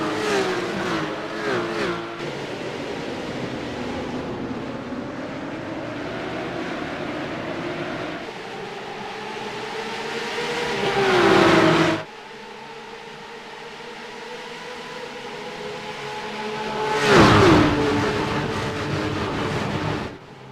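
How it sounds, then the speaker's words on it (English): Porsche race cars launching at the start of a feature race at Spa-Francorchamps in the iRacing sim, a dense roar of many engines revving and accelerating, with two louder surges as cars sweep close past. "The feature race here in the Porsche Tag Heuer Esports Supercup by iRacing is go once again down towards La Source."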